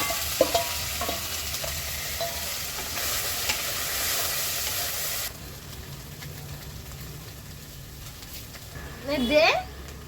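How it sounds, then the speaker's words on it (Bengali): Okra (bhindi) fries in hot oil in a wok with a steady sizzle and periodic stirring scrapes, close by, under a person talking; the sizzle drops quieter partway through. "তো প্রথমে আমি ভেন্ডিটা ভেজে নেব।"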